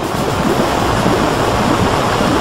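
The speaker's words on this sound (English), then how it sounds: "Tsunami. Ultimate water attack coming up now." Tsunami water spell from a Final Fantasy battle against Chaos, a loud, steady roar of rushing, surging water filling the whole moment without a break.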